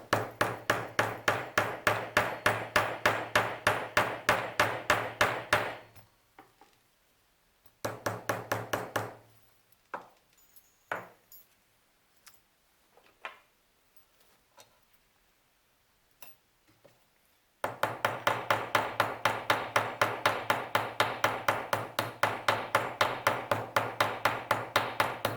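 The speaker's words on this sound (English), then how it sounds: "Then we can take our ball peen hammer, and I'm just using the end of that, or you could use a regular hammer face," A ball peen hammer rounds over a rivet on a leather dog collar, tapped in fast, even, ringing strikes in two long bursts with scattered single taps and quiet gaps between them.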